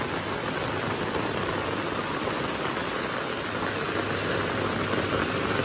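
Heavy rain pours down on a flooded village street, a dense, unbroken hiss of falling water that stays loud and even throughout, with no voices.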